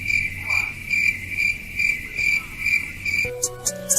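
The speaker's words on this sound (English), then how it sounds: "Moment of silence, crickets." Cricket chirping used as a sound effect in a rap song, a loud near pulsing trill repeating about twice a second before music with a beat cuts in.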